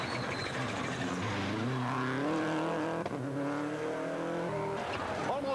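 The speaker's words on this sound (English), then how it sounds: "And that fastest car has just arrived." A WRC rally car roars through a tarmac stage at the 2004 Galway Summer Rally, its engine climbing through the gears with steady revving and brief gear-change dips, loud and close.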